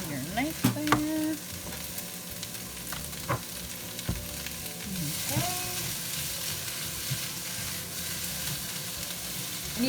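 Vegetables for beef stroganoff sizzle steadily in a hot pan, with occasional clacks and scrapes of stirring close up and no voices over the frying.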